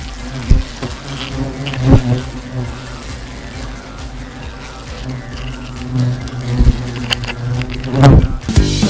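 Asian hornets buzzing while attacking near their nest, a dense close-up droning hum with individual insects zipping past the microphone in loud bursts.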